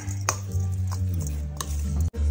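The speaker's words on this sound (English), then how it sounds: "Mix it all up." Sauce for a tuna tostada being stirred and mixed in a bowl, with steady scraping and clinking of a utensil close by, a brief sharp knock midway, and no talking.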